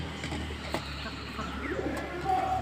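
Pigeons cooing nearby while being fed at home, soft low coos and a few chirps over a constant background hum.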